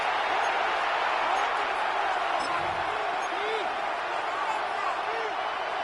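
A large football stadium crowd at a Cowboys at Lions NFL game keeps up a sustained, dense roar of noise to draw a false start, with a commentator speaking over it.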